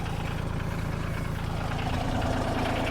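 Tractor engine idling outdoors, a steady, mid-loud diesel chug with an even low throb throughout, no voices over it.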